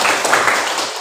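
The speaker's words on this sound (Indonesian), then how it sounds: "kasih tepuk tangan untuk teman-teman" A classroom of pupils clapping together in a short, loud, dense burst of applause.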